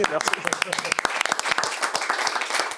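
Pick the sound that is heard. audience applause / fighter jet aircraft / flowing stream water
audience applause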